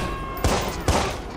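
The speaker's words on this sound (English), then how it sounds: "Who is shooting at me?" Three sharp bursts of gunfire from the video game Watch Dogs crack out at regular intervals over a steady background din, each shot loud and close with a brief tail.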